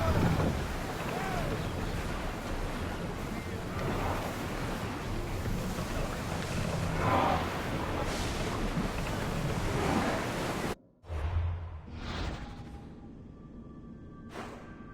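Ship under sail across ocean waves in Assassin's Creed Odyssey, steady surf and wind rushing loud for most of the clip, then dropping away to quieter water and creaks near the end.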